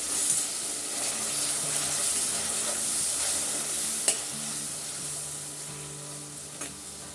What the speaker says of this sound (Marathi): थोडीशी कोथिंबीर टाकायची हळद पावडर टाकायची हे सगळं आपल्याला छान असं परतून घ्यायचं